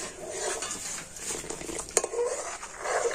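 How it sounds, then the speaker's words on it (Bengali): Milk mixed with custard powder stirred in a pot, with soft scraping and light clinks of a utensil against the metal, continuous and close, no voices. "কাস্টার্ড পাউডার মেশানো দুধটা দিয়ে তো কন্টিনিউ কিন্তু এইভাবে একটু নাড়াচাড়া করে নিতে হবে"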